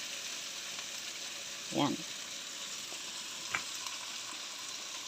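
Tomato, coriander and tomato paste frying in a pan, a soft even sizzle running throughout, fairly quiet, with a brief spoken word and one light utensil tap.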